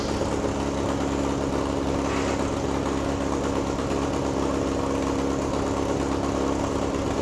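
A 1961 VW Beetle barn find engine idling steadily up close, a constant rough drone with no breaks while the car is put in gear.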